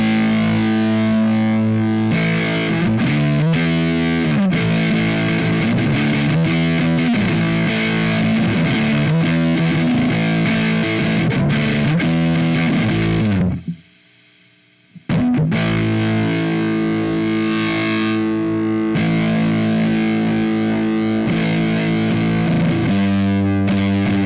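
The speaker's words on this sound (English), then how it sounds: "So now I'm using crunk as a distortion pedal." Electric guitar played through a crunk distortion pedal into a Nembrini amp, thick, heavily distorted riffing with sustained chords, loud and continuous apart from a brief near-silent break before playing resumes.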